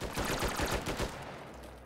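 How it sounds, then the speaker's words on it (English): Rapid gunfire in the VR shooter game Hot Dogs, Horseshoes & Hand Grenades, a quick burst of close, punchy shots for about a second, then a fading tail. "I don't need a scope to aim. I'm just gonna shoot these guys."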